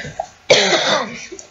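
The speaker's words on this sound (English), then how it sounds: "Sorry if I'm coughing." One harsh, close cough from a person just back from being sick, a sharp burst that trails into a rough, breathy tail.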